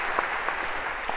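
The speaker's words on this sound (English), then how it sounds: "And now, perhaps a round of applause, they've sorted themselves." Applause from a lecture-hall audience, a steady wash of many hands clapping with a few sharper claps standing out, brief and fairly even in level.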